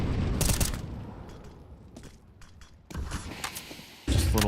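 Grenade blasts during an IEM Krakow 2026 esports match: several sharp, booming bursts, the loudest near the end, separated by quieter gameplay noise with faint ambient clatter.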